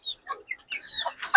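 Chickens cluck in a coop in a short burst of several nearby calls and soft squawks, close and clear with no talk.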